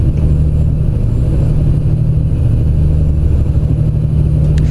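A steady, low diesel engine of an ISX 15 600-horsepower truck in a driving simulator game idles and rumbles continuously, loud and close, with a constant droning hum throughout.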